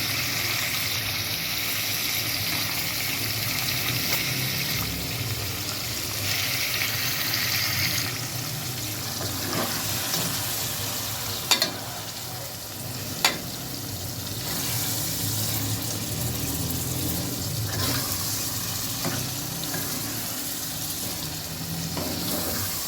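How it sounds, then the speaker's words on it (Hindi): Liver frying in a cooking pot, giving a steady, loud, close sizzle and hiss that runs throughout, with a couple of brief clinks partway through and no voices. "कलेजी को अपने फ्राई के लिए मैंने देख में डाल दिया है।"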